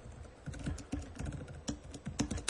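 Rapid keystrokes on a computer keyboard while a JavaScript URL is entered during a security conference demo, clicking in an irregular stream with brief pauses and no talk over it.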